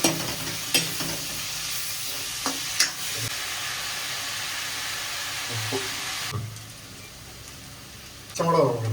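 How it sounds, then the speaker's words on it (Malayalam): Onions sautéing in a pan for a beef liver roast, with a steady close sizzle, occasional stirring clacks and a quieter stretch near the end. "സവാളയൊക്കെ ഇപ്പോൾ നല്ലോണം വഴറ്റിട്ടുണ്ട്"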